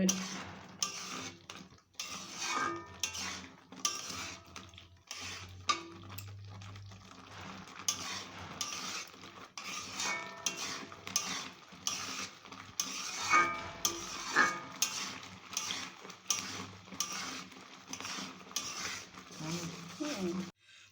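A thick sandesh mixture with chopped cashews is stirred in a pan, giving repeated scraping and clinking strokes that run steadily throughout, with faint background sounds.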